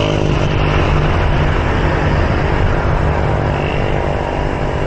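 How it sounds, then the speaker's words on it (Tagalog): A motorcycle speeding downhill on a road from Boso Boso toward SM Masinag, a loud, constant roar of engine and rushing wind throughout. "Bilis lumusong ng motor"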